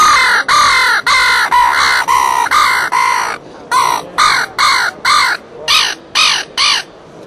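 A hand-blown crow call lure used for hunting imitates crows with a loud, close series of harsh caws, about a dozen evenly spaced calls in two rhythmic bursts separated by a short pause.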